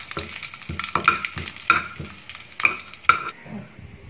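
A spoon stirs Kerala ginger curry (injicurry) with curry leaves in a pan, giving repeated scraping and clinking strokes against the metal with a soft sizzle, up close and with no talking.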